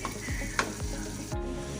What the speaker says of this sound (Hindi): अब इसको बिल्कुल स्लो आंच पर इसको दम में रख देंगे, हल्की आंच पर, ताकि इसका ऑयल ऊपर आ जाए।